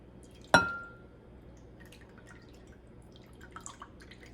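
Liquid drains from homemade salted butter made in a mason jar: a single sharp drip lands in a bowl near the half-second mark, then only faint small trickles and taps follow.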